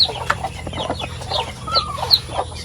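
Native chickens sitting on nests in a poultry house give a steady run of soft clucks and short calls, close and fairly loud, over a constant low background hum.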